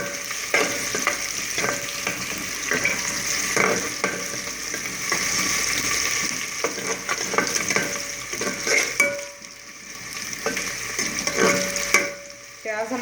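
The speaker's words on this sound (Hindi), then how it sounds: "प्याज हमारे ब्राउन हो रहे हैं।" Onions frying with cumin seeds in a pan for kadhi pakora, a steady sizzle with intermittent stirring scrapes throughout, close up and without talk.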